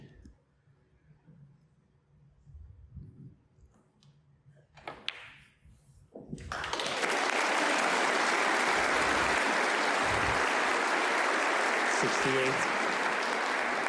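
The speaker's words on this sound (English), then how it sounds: "The crowd acknowledging the point of no return, barring snookers for Hawkins." A snooker crowd at the 2023 European Masters semi-final breaks into loud, sustained applause that swells after a few quiet seconds and carries on steadily to the end, with a door-like knock just before it.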